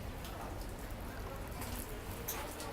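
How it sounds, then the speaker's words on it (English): Rain falls steadily on the deck of the USS Intrepid, a museum ship in New York City, as a soft, even hiss with scattered drop patter throughout, fairly faint and with no talking. "It's still raining, as you can see."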